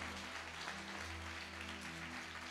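A church congregation claps together in a continuous, even wash of applause, heard faintly and at a distance over a low background hum.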